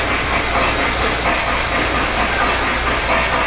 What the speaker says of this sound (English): See the train coming around now, passenger train, Polar Express,